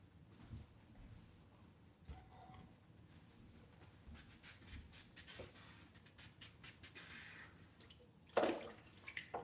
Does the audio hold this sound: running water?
yes